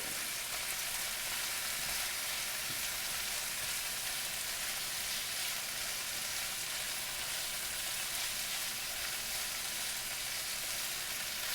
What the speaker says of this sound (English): I'm giving the veggies a little extra stir because I want the chili crisp mixed in really well.